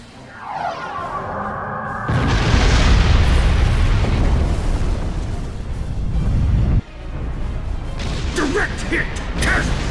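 In Star Trek Online, a deep, heavy boom of a starship weapon hit bursts in after a short whoosh, rumbling loudly for several seconds before a brighter electronic crackle.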